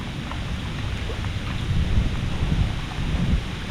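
Storm with thunder rumbling and rain lashing down on a lake during a kayak fishing trip at Charles Mill Lake; a steady wash of rain and wind noise with low, swelling thunder rumbles throughout.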